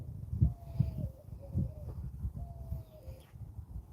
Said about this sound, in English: we got an owl out here. You hear it?